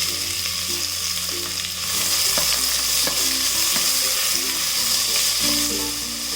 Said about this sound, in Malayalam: ഈ സവാളയും കൂടി ഇട്ട് വഴറ്റി കൊടുക്കാം.